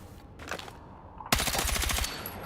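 A fast burst of automatic gunfire in a video game, played with gyro aim and recoil control, rattling loudly for about a second after a brief earlier shot, then fading into quiet background.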